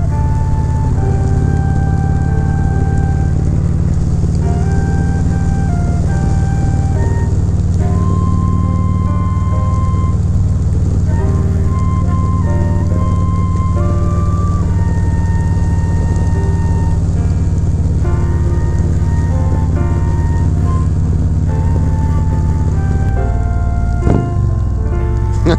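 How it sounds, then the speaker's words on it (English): Rain drumming steadily on a motorcycle windshield under cloudy skies, a continuous close wash over a low engine drone for the whole stretch, with a brief thump near the end. "it's cloudy, you hear the rain just hitting your windshield."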